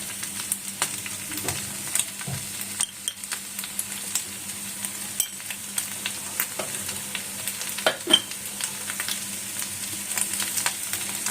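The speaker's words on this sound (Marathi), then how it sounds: "आणि आता आपण हे व्यवस्थित परतून घेणार आहोत" Ingredients for a fasting thali, with crushed peanuts and salt just added, sauté and get stirred in a pan, a steady soft sizzle broken by scattered spatula scrapes and clicks, fairly quiet, with no talking.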